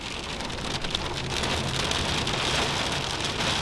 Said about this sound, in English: that's the rain and the wind.